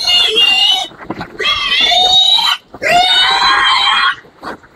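Healthy farm pigs let out loud, shrill squeals in three long bursts close by, separated by brief gaps, with a shorter squeal trailing off at the end.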